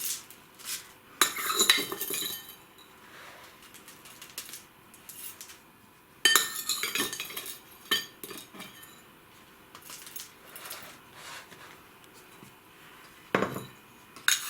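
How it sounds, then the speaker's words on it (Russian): Scattered bursts of gritty clinking and scraping as orchid substrate is spooned into a flower pot, with quiet pauses between scoops. "И последнюю ложку или 2 циафлоры я насыпаю на самый верх."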